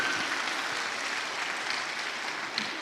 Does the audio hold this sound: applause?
yes